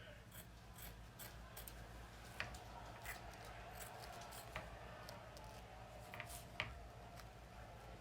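Scissors trim quilt batting close to a seam, a string of soft, crisp snips repeating irregularly over a steady low background hum, near and faint.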